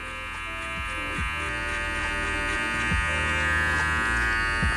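Electric hair clippers buzz steadily and close up while cutting a taper fade, with the lever opened and the blade tilted, the motor whine holding even with slight dips as the clipper passes through the hair.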